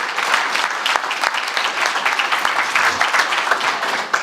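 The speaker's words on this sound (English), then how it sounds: "Give yourselves one more round of applause." A room of conference attendees applauding at a health system performance session, sustained dense clapping with scattered sharp claps, steady and fairly close.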